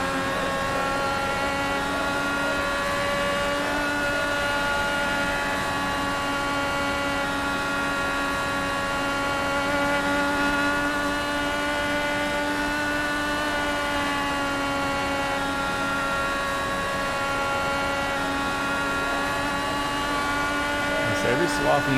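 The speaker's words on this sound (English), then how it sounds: "Every so often you just hear the revs kind of spike just a little bit" An Indy-series race car engine on a circuit, holding a sustained droning whine with stacked harmonics, the pitch wavering slightly with small rev spikes on corner exits, steady and moderately loud over a long stretch.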